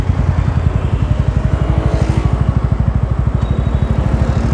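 A TVS Ronin 225 motorcycle idles along in second gear with no throttle, its single-cylinder engine thumping in a steady, even pulse, close and fairly loud with no one speaking.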